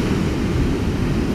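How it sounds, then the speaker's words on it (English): Ocean surf rolls in near Alamir Falls in a steady, dense broadband roar, loud and continuous with wind buffeting the microphone and no voices. "the waves are going up to and beyond a little"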